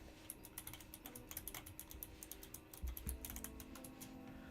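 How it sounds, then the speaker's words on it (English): Quiet computer keyboard typing, a fast irregular patter of light clicks in bursts with brief pauses, close and alone against faint background hum. "Apologies if you can hear my typing."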